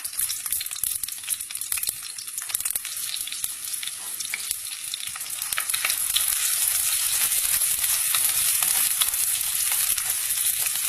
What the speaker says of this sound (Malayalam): ഇനി ഇതിലേക്ക് നമ്മൾ ചെറുതായി അരിഞ്ഞ് വെച്ചിരിക്കുന്ന സവാള ചേർത്ത് നന്നായിട്ട് വഴറ്റിയെടുക്കാം